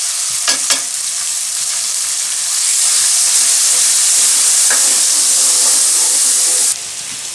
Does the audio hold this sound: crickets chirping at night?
no